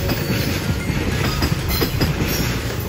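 A container freight train hauled by an EF66 electric locomotive passes close by at night near Himeji freight station, a loud continuous rumble of wheels with steady clickety-clack rhythm and a faint high squeal.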